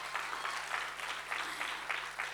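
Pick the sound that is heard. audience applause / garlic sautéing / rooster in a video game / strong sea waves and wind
audience applause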